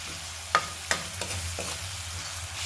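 A spoon stirs chicken gravy masala frying in a pan with a little salt added, giving a few sharp scraping clinks over a steady close sizzle.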